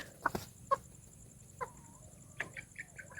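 White chickens cluck on a farm, with several short, close clucks and calls scattered irregularly over quiet outdoor background noise.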